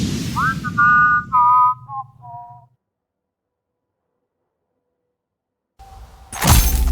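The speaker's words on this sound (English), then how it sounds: "Engaging whistling subroutine." A synthetic, robotic whistle plays a short descending run of pure tones, followed by silence and then a sudden harsh crash like something shattering.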